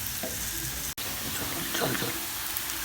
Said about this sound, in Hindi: प्याज को मैंने थोड़ा सा ब्राउन कर लिया